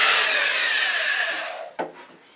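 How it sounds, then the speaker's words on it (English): A power sander with a little lubricant smooths the interior of a turned wooden goblet on a lathe at reduced speed, a loud steady whirring rasp that fades out, followed by a brief knock. "Power sander with a little sanding lubricant on here to keep some of the small dust down"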